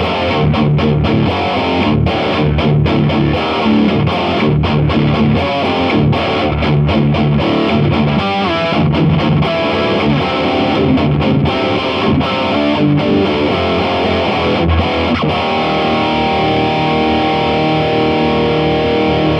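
Electric guitar through a Blackstar ID:60 amp with the OD2 overdrive voiced like KT88 power tubes, similar to a Series 1 200-watt head; a thick, distorted riff plays loud and steady for the whole stretch with no talking.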